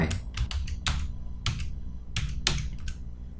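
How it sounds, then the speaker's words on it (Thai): Computer keyboard keys tapped in short irregular bursts while new text is typed into a Photoshop-style text layer, crisp close clicks over a low steady hum, no talking. "ดับเบิลคลิกเลยพิมพ์ข้อความใหม่เข้าไป"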